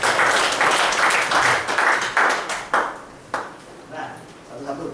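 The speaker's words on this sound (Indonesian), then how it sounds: "Oke, tepuk tangan. Luar biasa." Brief bursts of audience clapping at a sales training session, loud at first and then breaking into scattered claps that die away, with a voice speaking near the end.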